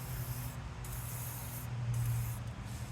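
WD-40 sprayed onto rusty wheel studs, a close, steady hissing spray with a low mechanical hum underneath, running continuously with slight dips in intensity.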